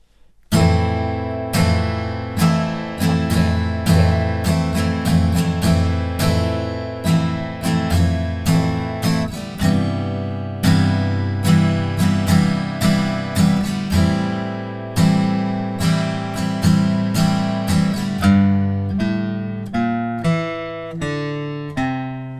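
Steady acoustic guitar strumming of the verse chord pattern, played alone and close with even rhythmic strokes throughout.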